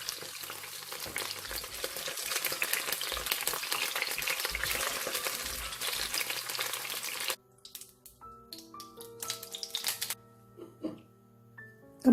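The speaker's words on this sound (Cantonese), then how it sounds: "咁煎到佢兩邊都微黃咧，我哋就撈翻佢出嚟，擎一擎啲油。" Diced chicken pan-frying until golden on both sides, a loud steady oil sizzle with stirring that lasts about seven seconds, then breaks into quieter intermittent crackles and utensil scrapes.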